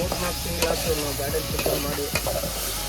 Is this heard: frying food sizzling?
yes